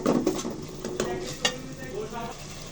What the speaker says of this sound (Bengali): আমরা কাঁচা মশলাটা ভালো করে ভেজে নিব